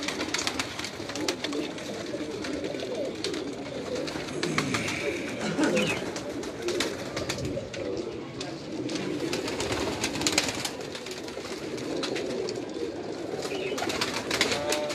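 Pigeons coo steadily over a dense, noisy background of birds and outdoor clamor, continuous throughout at moderate loudness.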